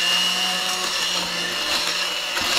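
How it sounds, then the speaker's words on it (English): A stick blender runs steadily on its high speed setting, blending butternut squash soup with a continuous loud whir that holds from start to finish with no pauses. "stick blender in, and you see I'm just using kind of the little blade option on there"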